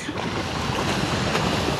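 Strong wind blows steadily across the microphone by the East River shore on a sunny day, a loud, continuous buffeting roar with no one talking.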